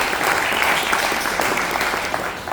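An audience at a silver jubilee meeting of an environmental committee claps loudly, a dense, sustained roar of many hands.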